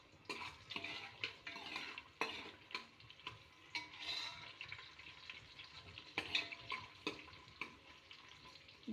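Garlic, onion and cumin fry in hot oil in a pan, giving a light steady sizzle broken by repeated spoon scrapes and clinks against the pan.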